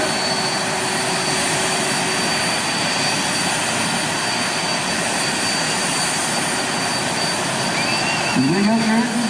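Race car engines idle and rumble steadily at a classic drag racing event, a continuous loud mechanical drone with crowd noise mixed in and a brief rising whine near the end.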